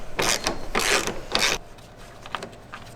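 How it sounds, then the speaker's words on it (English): A ratchet backs out 10mm liftgate strut bolts on a Toyota Highlander, three quick bursts of loud close clicking followed by fainter, softer ratcheting and metal handling. "let's get going with that 10mm bolt action"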